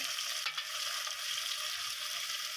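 Tomatoes go into browning masala for a chickpea curry and fry with a dense, even hiss, close and fairly loud, with a brief bump as they land.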